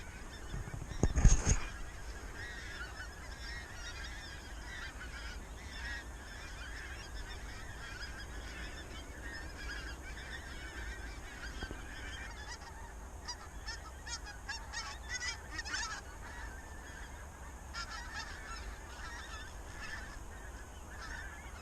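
Pink-footed geese on a frosty marsh give a loud honk close by, then scattered faint calls and wingbeats carry on at a distance over quiet ambience.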